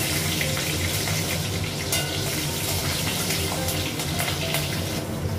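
Green and dried chillies sizzle and crackle in hot oil in a pan, a dense continuous frying hiss heard close up with no talking.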